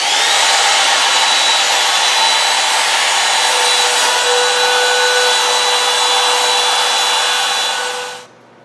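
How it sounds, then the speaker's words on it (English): A wood router cuts a recess for a workbench vise, giving a loud, continuous high-pitched whine that holds steady for several seconds and then drops off abruptly at the end. "I'm going to route all that out first, then I'll change my depth"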